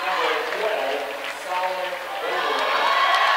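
A crowd cheers and roars at a high school basketball game in a gym, a steady dense wash of voices throughout, swelling slightly toward the end.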